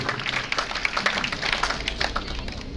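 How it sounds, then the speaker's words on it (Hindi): A crowd claps steadily at an honours ceremony for talented people from all communities in Rajgarh, Rajasthan, producing a dense, continuous wash of applause at moderate volume with no voices over it. "एक बार सामरिया जी के लिए हम लोगों को यहाँ तालियां बजा के सम्मानित करना चाहिए"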